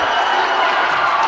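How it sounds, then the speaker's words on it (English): A crowd at a high school volleyball match roars and cheers as fans rush the floor after a fifth-set win, a dense, steady wash of voices and noise throughout. "Crowd rushes the floor"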